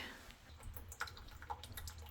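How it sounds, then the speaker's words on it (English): Water drips from a leaky bathroom faucet in a home, a few faint, scattered plinks over a low steady hum. "in this bathroom, they've got a leaky faucet"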